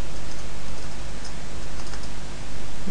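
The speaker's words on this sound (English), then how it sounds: "This keyboard is driving me nuts." Fingers clatter on a computer keyboard while code is written, a loud, close, continuous run of quick key clicks with no talk.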